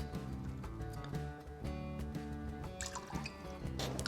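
Bourbon, 1.5 ounces, pours into a glass for an Old Fashioned cocktail, a soft liquid trickle with faint clinks heard at low level over a quiet background tone.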